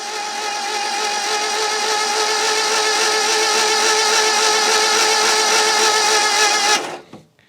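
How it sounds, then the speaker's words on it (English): A loud, steady mechanical whir of a Yugo engine being turned over by the starter motor with the spark plugs out, holding constant for several seconds before cutting off abruptly. "It's not sounding like a proper engine because I haven't got the spark plugs in."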